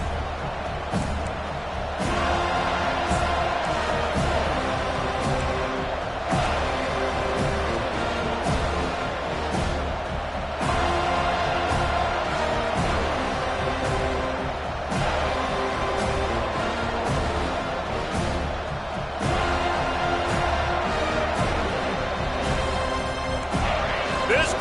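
A home stadium crowd at a professional American football game roars steadily and loudly throughout, a dense wash of cheering and noise with occasional swells, with a commentator's voice running over it.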